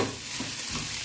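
Chopped onion and chili fry in a pan with a brief, steady, close sizzle and a soft stirring scrape.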